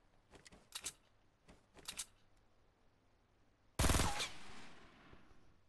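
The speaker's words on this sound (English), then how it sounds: "I shot him, got a hit mark, and looked at his health." Fortnite gunfire crackles in two quick, faint bursts of rapid shots, then a single much louder, sharp blast with a trailing echo, close and free of talk.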